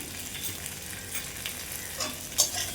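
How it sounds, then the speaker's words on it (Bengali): Bitter gourd and potato pieces sizzle in a pan with salt and a little turmeric, a steady hiss of frying broken by light stirring scrapes and one sharper clack near the end, with no talking. "এবার একটু এটা হালকা করে কষিয়ে নেব।"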